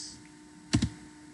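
Two quick, close clicks of keys on a computer keyboard while a command is typed at a terminal, brief and crisp against a quiet room.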